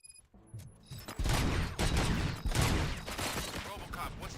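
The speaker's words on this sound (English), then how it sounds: "Gunshots? What's going on?" Rapid bursts of gunfire in a RoboCop video game rattle through the clip, loud and dense, with a few brief electronic tones at the start before the shooting begins.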